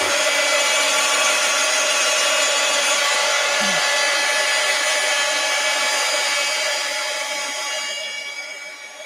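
A heat gun blows continuously while drying an art journal page, a loud, steady whirring hiss with a high whine that stays constant for several seconds before tapering slightly.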